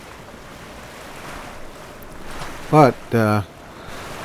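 Rolling waves and strong wind at sea in the Sailaway III sailing game during high winds and rough seas off Maui, a steady wash of surf and wind under brief speech from a man.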